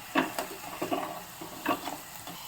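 Sliced onion frying in a pan for spicy misal pav, with soft bursts of sizzling and occasional stirring scrapes, fairly quiet and close, no voices.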